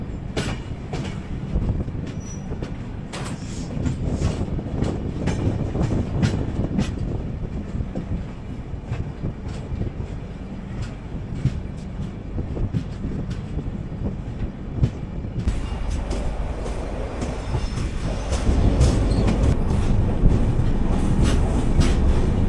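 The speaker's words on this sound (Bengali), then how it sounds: "দুপুরের খাওয়া খেয়ে এই ট্রেন এখন কাঠপাটি জংশন ঢুকছে।" An express train running from Bengaluru to Howrah rolls into Katpadi Junction, heard from on board as a steady rumble with clattering wheel rhythm and occasional squeals. The sound is close and continuous and grows heavier toward the end.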